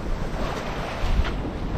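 Wind and breaking waves roar steadily at sea during squalls in the Bay of Biscay, a dense, continuous rush of surf and gusting air buffeting the microphone from a sailboat.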